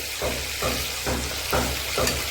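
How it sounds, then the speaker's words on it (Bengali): Pieces of rui fish fry in hot oil in a pan, a steady loud sizzle with regular soft bumps of turning or stirring about every half second, no voices. "এক সাইড কড়া ভাজা হয়েছে, আর এক সাইড কড়া ভাজা দেবো না, হালকা ভাজা করব।"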